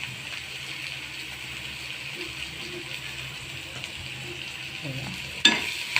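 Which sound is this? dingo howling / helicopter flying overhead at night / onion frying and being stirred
onion frying and being stirred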